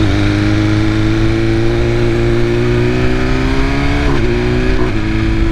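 A 2021 BMW M1000RR superbike with a BT Moto ECU flash and quick shifter accelerates hard, its loud, close engine note climbing steadily with brief dips at the quick, smooth gear changes near the end.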